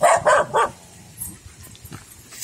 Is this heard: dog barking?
yes